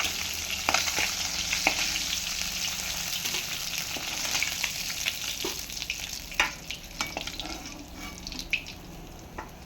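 Pieces of rohu fish fry in hot oil for a Bengali mashed-fish dish, giving a steady, close sizzle scattered with sharp crackles and pops and no talking.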